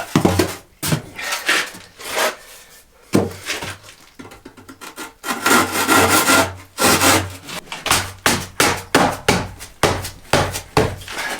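A hand saw cuts at an angle through wooden roof tile trim on a chicken coop, with rhythmic back-and-forth strokes, close and loud, and short pauses between bursts.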